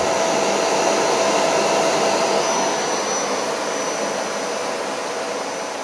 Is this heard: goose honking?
no